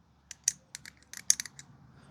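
The spring-loaded scissors of a black matte NexTool Black Knight multitool snip and click repeatedly, a quick rapid series of crisp metallic cuts, close and clear with no talking.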